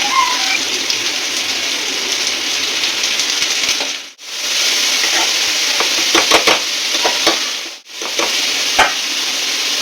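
Tomatoes, green chillies and curry leaves sizzle loudly in hot oil for sabudana khichdi, a dense crackling hiss broken twice by short pauses and stirring, with scattered pops.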